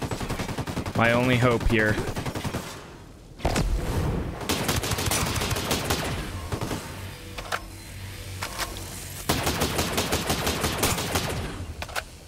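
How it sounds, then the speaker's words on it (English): Bursts of automatic gunfire hammering into a wall in Ghost Recon Breakpoint, loud rapid volleys in several separate strings, with someone talking briefly over the first stretch. "Just keep shooting into the wall, dude."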